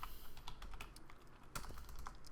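Rapid computer keyboard typing with irregular clusters of key clicks over a low steady background hum, close and fairly quiet, no voices.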